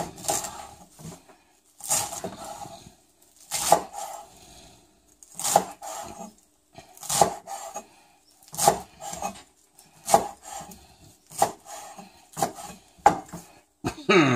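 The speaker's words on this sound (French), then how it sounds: "On va hacher tout ça assez finement." Knife chopping paella ingredients finely on a board, a run of sharp, close, fairly loud cuts in an uneven rhythm with short pauses between bursts, no voices.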